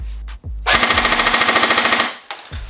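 A Snow Wolf SW-02A airsoft Barrett M82A1 rifle fires a loud, close full-auto burst of about a second and a half, a rapid even rattle of shots, with mechanical clicks before and after.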